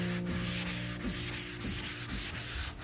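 A 120-grit sanding block rubs back and forth over painted wood in quick, regular strokes, each pass a close scratchy swish with no voices.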